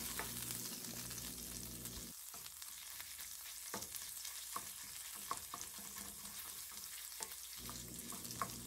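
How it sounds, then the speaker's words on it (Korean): Garlic frying in oil in a hot pan for a cream risotto, a steady close sizzle with scattered crackles and spatter pops and stirring scrapes running throughout. "팬이 과열돼서 기름이 너무 많이 튄다 싶으시면 불을 꺼주시거나 줄여주세요."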